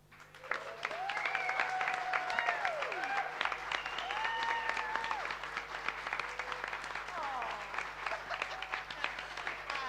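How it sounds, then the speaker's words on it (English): A room claps at a CD launch, and the steady round of applause runs throughout. Whistles and voices rise over the clapping as people cheer and call out. "we all just need to take a second for a massive round of applause for Sister Maeve Louise Heaney."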